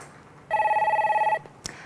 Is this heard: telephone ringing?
yes